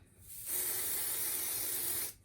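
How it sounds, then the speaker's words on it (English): KK2000 temporary spray adhesive sprayed lightly from an aerosol can while preparing an embroidery project on a Brother SE1900, a single steady loud hiss of about a second and a half that starts and stops abruptly. "I use KK2000. I don't know why, I just like this one. It doesn't gum up the needle or anything. And then I'm going to lightly spray."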